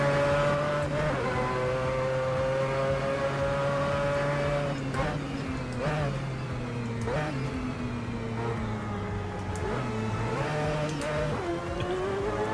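Mazda race car engine in a sim racing video game, a continuous loud engine drone whose pitch rises and falls through gear changes and throttle lifts while understeering on track.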